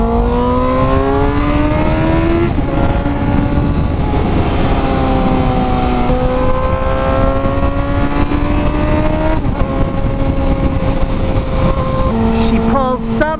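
A car's engine pulls hard on the highway after intake (ITB) work, revving up through several gear changes with loud, steady rising tones and shifts, heavy road and wind roar underneath.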